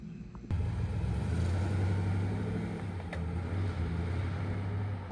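A car carrying e-bikes on a rear rack drives along a paved road, its steady engine hum and tire rumble starting abruptly and holding at a constant, fairly loud level.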